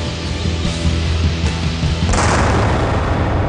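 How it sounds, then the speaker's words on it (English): A gunpowder-fired cannon booms loudly, and a sharp, bright burst near the end breaks into a broad, rushing roar that lingers. "you could always try a cannon."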